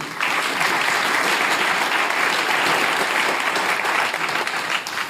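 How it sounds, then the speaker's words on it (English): An audience applauds panelists at a Montana forum on regenerative food and agriculture, a dense, steady wash of many clapping hands that holds loud and even for about five seconds before easing off at the end. "So big round of applause for the panelists."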